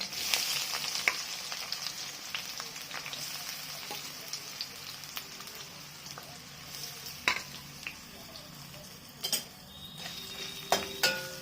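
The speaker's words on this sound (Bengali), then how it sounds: "পেঁয়াজগুলোকে ভেজে নেবো।" Chopped onions and slit green chilies sizzle steadily in a pan for a spicy mutton kosha, with a continuous frying hiss broken by occasional scraping and clinking of a spatula.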